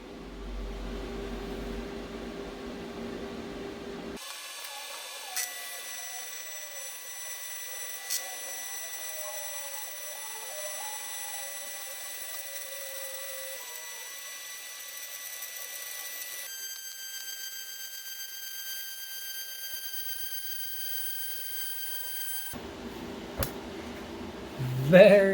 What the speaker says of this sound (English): first time welding aluminum in a little while